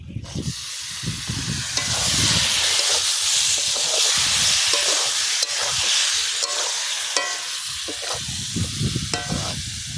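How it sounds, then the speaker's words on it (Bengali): Meat hitting a hot karahi at an outdoor New Year picnic bursts into a loud, continuous sizzle and steamy hiss, with stirring clatter at the start and end and a few faint voices in the background. "এবারে মাংসটা দিয়ে দিই।"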